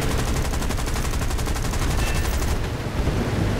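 Continuous rapid machine gun fire in War Thunder, loud and close, a dense unbroken burst of shots running for several seconds with no voices.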